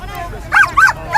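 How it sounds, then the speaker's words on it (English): A young dog, 11 months old, yelps and whimpers in three short, high, strained bursts, close by, at a noisy street protest against the Coronavirus Bill outside Parliament in London. "You can see that my dog is upset!"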